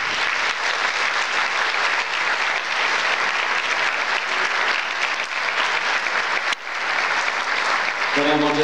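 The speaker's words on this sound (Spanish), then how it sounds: "pedirle que le brindemos un aplauso" An audience applauds steadily for several seconds at an award ceremony honoring a teacher, a dense wash of clapping that stays loud throughout, with a brief dip near the end.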